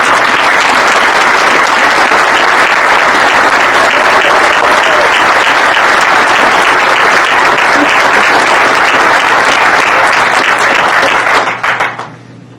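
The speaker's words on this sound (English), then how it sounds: "Another round of applause for his family." Sustained, loud audience applause in a room honoring a Navy captain's family, steady dense clapping for about eleven seconds before fading out abruptly.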